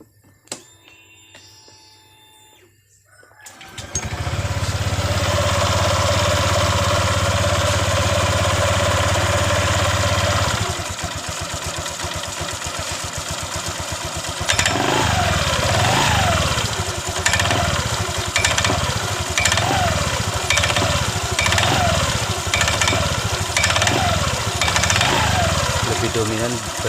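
A Honda Vario 125 scooter engine starts after a brief quiet moment and runs steadily, then revs up with a rough, rattling noise from the CVT throughout.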